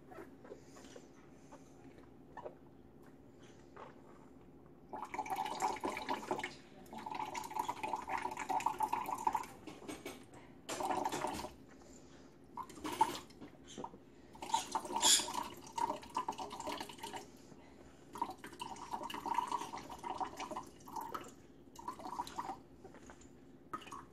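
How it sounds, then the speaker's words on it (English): Water drips and trickles from a leaking Sawyer Select S3 water purifier, in irregular bursts of splashing and dribbling over about twenty seconds, fairly close with no voices. "Now, I think this thing leaks myself."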